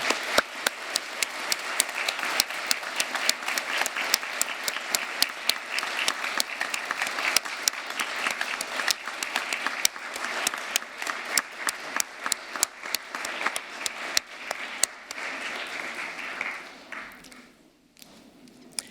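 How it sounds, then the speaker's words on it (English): Graduands at a University of Aberdeen winter graduation ceremony stand and clap for their family and friends in long, sustained applause filling the hall, with sharp individual claps standing out before it fades near the end. "give them a hearty round of applause, perhaps even a cheer"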